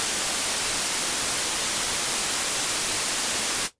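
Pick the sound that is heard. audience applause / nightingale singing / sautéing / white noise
white noise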